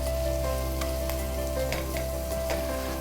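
Onion and masala sizzling in hot oil in a pan while cooking chicken perattu until golden brown: a steady, close, continuous frying hiss with faint stirring clicks and no talk.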